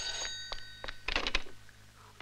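A telephone rings in a scene from an Italian film directed by Renato Polselli, sounding as short, bright bell bursts that repeat irregularly over quiet room tone.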